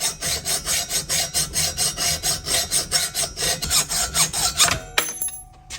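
A hacksaw cutting metal in a welding shop: steady, rhythmic back-and-forth rasping strokes, loud and close, about two per second, ending with a few clinks as the sawing stops.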